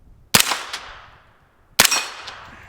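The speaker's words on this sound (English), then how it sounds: "Let's shoot that steel and drive everybody nuts." A suppressed CAR-15 rifle fires two separate shots roughly a second and a half apart, each a sharp crack that rings off a steel target and fades away, heard alone outdoors.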